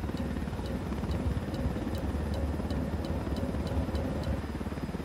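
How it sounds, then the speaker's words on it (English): Big helicopter from Ghost Recon Wildlands flying at speed, a steady loud rotor and engine drone with rhythmic blade chop throughout. "Problem with the big helicopters, they take a while to get in the air compared to the buzzard type helicopters."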